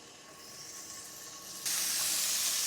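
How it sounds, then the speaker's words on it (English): Steak searing in a pan gives a steady hiss that jumps suddenly louder partway through, a broad close-up sizzle with no talking. "we're gonna start by searing our steak"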